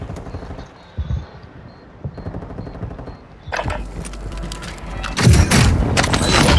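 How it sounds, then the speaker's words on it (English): Mid caliber gunfire in a video game, sparse muffled shots at first building into louder, denser bursts of automatic fire and mechanical clatter toward the end. "Big mid caliber rounds."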